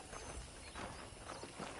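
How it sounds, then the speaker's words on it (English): Horse hooves clip-clopping in a video game, a brisk rhythmic series of close hoofbeats on hard ground, steady and fairly faint, with no talk over them. "let's see if you can still ride a horse"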